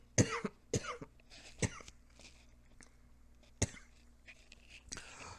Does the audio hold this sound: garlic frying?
no